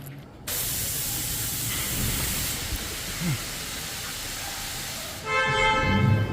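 Engine oil drains from a 2015 Ford F150 in a steady, even hissing gush that starts abruptly and runs continuously underneath, with a brief clank near the end.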